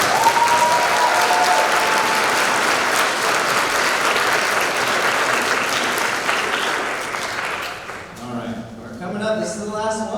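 Audience applause at a fall school STEM band concert, dense sustained clapping filling the room for about eight seconds before fading, then a voice speaks near the end.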